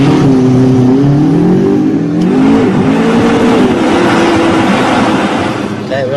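A McLaren MP4-12C engine revs loudly on a runway, its pitch rising and falling as the throttle is worked, with someone talking over the continuous roar.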